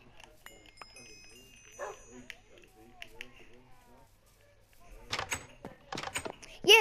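A tamed dog in Minecraft PlayStation 4 Edition gives short, sharp barks in bursts among other game sounds, with people talking at times.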